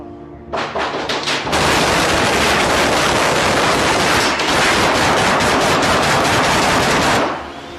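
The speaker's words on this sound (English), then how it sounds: "Shots fired." Rapid bursts of gunfire ring out during a police shootout. After a short opening volley, loud sustained automatic-sounding shots run unbroken for several seconds, then cut off.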